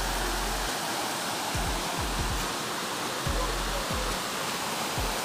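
Dao Falls, a cold-water waterfall, roars in a loud, dense, unbroken rush of falling water, with low thumps of wind buffeting the microphone.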